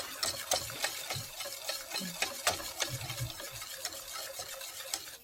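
Sauce for a chocolate moist cake slow-cooking in a pan, a quiet bubbling sizzle dotted with frequent small pops and ticks of a utensil, close and steady, no voices.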